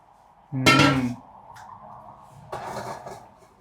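Dishes and metal utensils set down while washing up in a home kitchen: a loud ringing clatter, then a faint clink and a second, softer rattle of placed items, close by with no talk.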